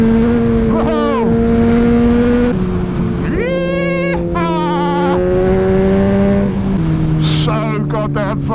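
A motorcycle on the first ride of the year, with its exhaust being tested, revs hard through the gears: a loud, close engine tone climbs and drops at each quick shift, steady throughout with brief wind or voice sounds.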